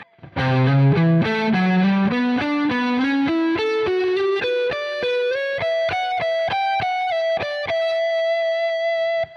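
Heavily distorted electric guitar plays a rapid ascending run of picked notes, ending on a sustained high note.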